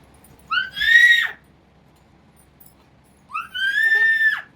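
A young girl screams loudly twice, each cry a long, high, strained shriek of about a second, separated by a short quiet gap, close by and with no talk over it.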